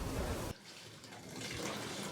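Water from a plain hose or a large bucket poured continuously onto a hatch of a new Leopard 45 catamaran, heard as a steady broadband wash after a louder initial gush, with no talk.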